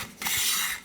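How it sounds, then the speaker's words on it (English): A quick, close scrape as dust is cleared from a bandsaw wheel, one short rasping stroke under a second long. "I'm just gonna carefully scrape this dust off of here."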